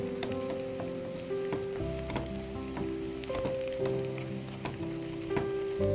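Sliced onions and green chilies fry in a pan with a steady, close sizzle, broken by sharp clicks and scrapes of stirring, with a faint tonal hum behind.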